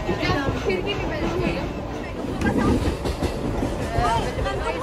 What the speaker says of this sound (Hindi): ये देखो गाइस हमारी ट्रेन आ गई है